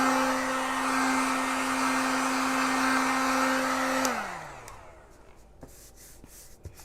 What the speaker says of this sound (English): If you are drying these and applying heat, you want to keep that moving, of course.